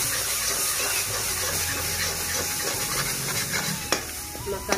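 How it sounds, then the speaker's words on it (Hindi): Fenugreek spice masala sizzles steadily in hot oil in a village-style kitchen, a constant close crackle with a few sharp stirring clicks of a spoon against the pan toward the end. "मेथी के मसाले को 5-7 मिनट भूनेंगे।"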